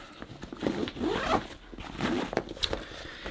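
The zipper on a duck hunting gear bag is pulled in a few quick rasping strokes, close and clear, with no talking over it.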